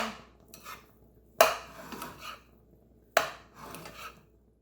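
Food being stirred in a pan, with two sharp scraping clinks of a utensil against the pan followed by softer rubbing strokes, with quiet gaps between.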